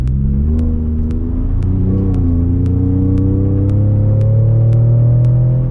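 A loud, close truck engine idles and then rises steadily in pitch as it revs, a smooth droning rumble without speech; not a V8.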